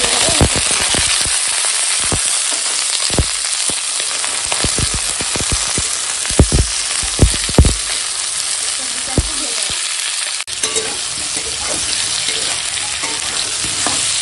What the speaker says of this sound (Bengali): দেখো সবজিটা এখন সব হালকা ভেজে নিয়েছি।